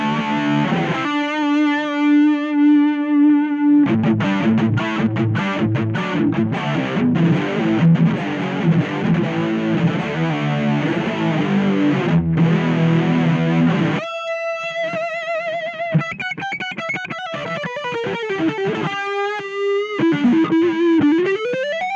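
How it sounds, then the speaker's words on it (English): An electric guitar played through a Harley Benton Airborne Go wireless modeling amp with a noise gate and chorus effect: sustained chords, a busy strummed passage, then single notes with sliding bends, loud and alone. "let's add some chorus to the sound."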